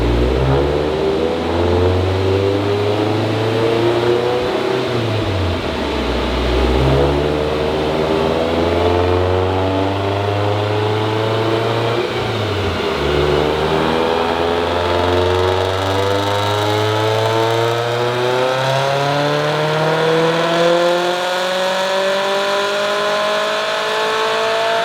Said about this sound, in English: That's my first time actually hearing the car outside of the driver's seat.